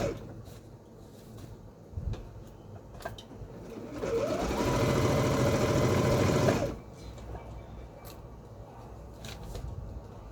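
Sewing machine stitching the top hem of a garment to make an elastic casing, a steady mechanical whir running for a couple of seconds, close up, between quieter handling noises.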